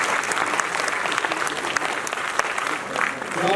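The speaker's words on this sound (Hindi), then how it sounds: "ताली तो बजाना चाहिए ना" Audience clapping at a ceremony, a sustained round of many hands applauding, with a voice speaking over the applause.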